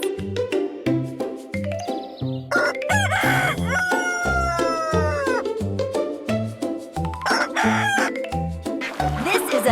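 A rooster crows repeatedly, loud and close, its long rising calls layered over a bouncy children's music track with chimes and a steady beat.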